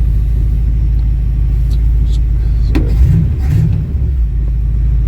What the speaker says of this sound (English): it does sound pretty good for the kind of mangled up exhaust system that I have